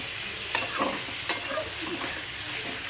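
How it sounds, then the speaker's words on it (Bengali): Bengali chorchori vegetable dish sizzling and frying in a pan while being stirred, with a few sharp scraping clatters of a utensil against the pan over a steady hiss. "এখানে চচ্চড়িটা বসিয়েছি, দেখো"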